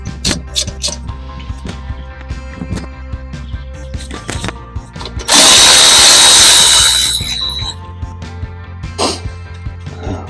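Power tool whirring out a brake caliper retaining bolt on a Citroen Relay with a seized caliper, one loud close burst of about two seconds amid scattered knocks and clanks of workshop handling.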